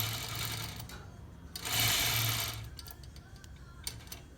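An Elite Platinum longarm quilting machine stitches in short bursts, a quiet rapid mechanical whir that starts and stops, with faint clicks between runs.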